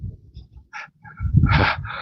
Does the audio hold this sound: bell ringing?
no